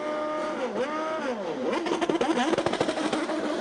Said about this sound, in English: You heard the rev limiter as he brought it up to maximum revs at the 60-mile-an-hour pit lane speed limit